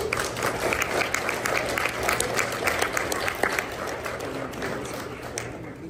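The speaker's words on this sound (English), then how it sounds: "Let's give a clap for round one" An audience at a 2024 school spelling bee breaks into applause after round one, a loud, continuous burst of many hands clapping that carries on for several seconds and fades slightly at the end, with faint voices underneath.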